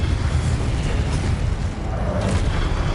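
A fiery spell blast from the Incendio charm in a Harry Potter video game, a steady loud roaring whoosh with low booming rumble lasting throughout, with no break.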